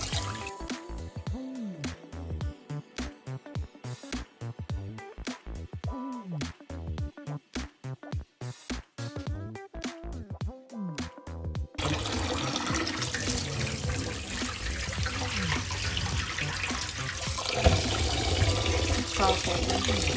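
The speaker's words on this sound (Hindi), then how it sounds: "ठंडे पानी से निकालूंगी जब तक नीचे से साफ चावल नजर नहीं आते।" Rice is washed under cold running water at a sink for a beef yakhni pulao, with water pouring and splashing in bursts as grains are swirled by hand, then a steadier continuous flow of tap water.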